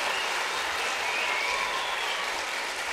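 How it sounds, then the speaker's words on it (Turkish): An audience claps for students of a summer Quran course at an opening program, producing dense, steady applause that fills the whole stretch without letting up. "şöyle en kuvvetlisinden bir alkış alalım"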